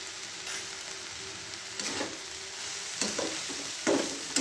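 Bhagar, barnyard millet, being stir-fried in a pan, a soft steady sizzle broken by several scraping stirs of the spoon, close and fairly quiet, with no talking.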